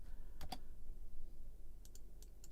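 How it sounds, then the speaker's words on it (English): Quick clacky typing on a computer keyboard during a music and mixing show, with a pair of close keystrokes near the start and a short burst of three or four later, faint over a steady low background hum. "Sorry for all the clacky typing."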